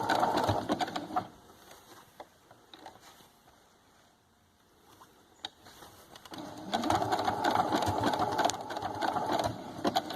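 A sewing machine stitches a buttonhole edge around a fabric appliqué. Close, dense mechanical whirring bursts start and stop, with a quiet pause in the middle before a longer steady run.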